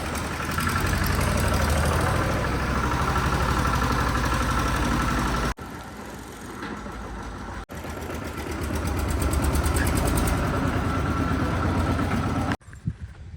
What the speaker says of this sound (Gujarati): ગાડી કાઢી લીધી છે ગાડી ઉપડી પણ ગઈ